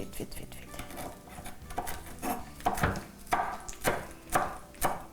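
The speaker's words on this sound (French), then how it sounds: "Donc ça, c'est le persil, ça, c'est la coriandre ici. Juste comme ça. Juste hacher vite." Fresh parsley and coriander being chopped quickly with a knife on a board, producing a steady series of sharp, fairly close cutting knocks about every half second, with a little background room noise.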